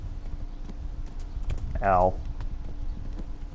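Horse hooves clip-clop at a walk in Kingdom Come: Deliverance, steady soft steps with a brief louder vocal swell in the middle; someone talks over it.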